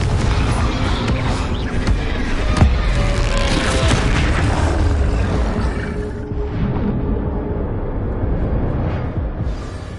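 Spell explosions from the video game Hogwarts Legacy: a dense run of loud, booming blasts and crackling impacts, close and heavy, that trails off into a lower rumble toward the end.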